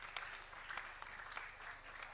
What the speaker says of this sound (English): let us first of all give a round of applause to the Honorable Duale